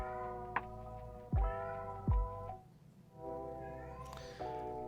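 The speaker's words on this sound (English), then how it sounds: "This cat likes to yell after every poop." A cat lets out a string of loud, drawn-out yowls after pooping, four or five cries in a row close by, with a few thumps between them.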